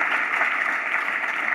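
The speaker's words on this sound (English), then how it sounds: "and the people of Sydney a big clap" Audience applause filling Sydney Town Hall: a brief, dense, even patter of many hands clapping at moderate loudness, with no pauses.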